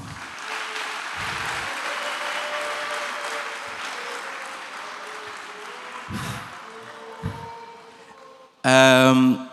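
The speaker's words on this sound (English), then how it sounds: "A round of applause." A crowd at a dining hall furniture commissioning ceremony applauds steadily for several seconds, moderately loud, then fades out before a voice breaks in abruptly at the end.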